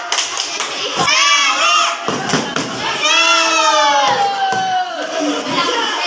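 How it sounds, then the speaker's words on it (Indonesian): A classroom group performs a tepuk salut clapping cheer, with rhythmic hand claps and thuds under loud shouted chanting from many young voices, close and lively throughout. "Kita beri tepuk salut dulu. Tepuk salut. Salut."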